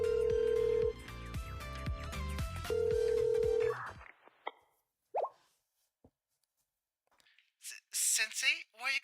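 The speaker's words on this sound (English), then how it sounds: "I called Rio's burner phone." A phone rings twice in long electronic tones while calling a burner phone, then cuts to silence followed by brief clicks and a short burst of talking.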